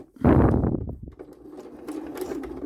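A sewing machine topstitches a small strap at stitch length 3: a short, close burst of whirring stitching that fades into quieter mechanical clatter.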